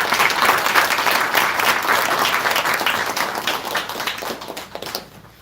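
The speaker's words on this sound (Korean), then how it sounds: "따뜻한 격려와 힘찬 응원의 박수 다시 한번 부탁드리겠습니다" Sustained applause from an audience at a school policy meeting on alternative education, dense steady clapping that fills the room and thins out toward the end.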